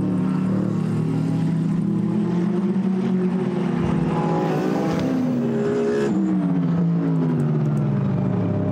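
GT race cars, including a Mercedes, lap the Paul Ricard circuit during a qualifying session, engines droning loudly and continuously with rising and falling pitch as cars accelerate and pass, several overlapping at once.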